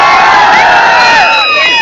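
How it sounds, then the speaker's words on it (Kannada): A large college crowd at a film promotion event roars with loud cheering, whoops and shouts, a dense wall of excited voices sustained throughout. "ಒಂದ್ಸಲ ಜೋರಾದ ಚಪ್ಪಾಳೆ ಬರಲಿ."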